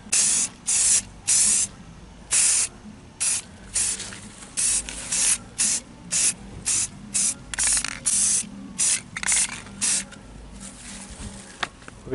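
Short bursts of an aerosol can hiss in quick repeated passes as gloss black paint goes onto a 2004 Toyota Sequoia mirror, some two dozen sprays with brief gaps between them, close to the microphone.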